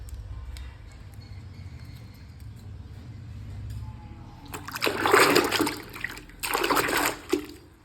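Warm water with a little shampoo is splashed while soaking a saree for washing. After a quiet low hum, two bursts of close sloshing and splashing follow, then a short final splash.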